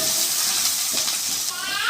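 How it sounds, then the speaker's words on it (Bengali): Potatoes fry with chilli paste in oil with a loud, steady hiss and sizzle close up, occasionally shifting as they are stirred. "এটা দিয়ে ভালো করে লাল লাল করে আলুটা ভেজে নেব"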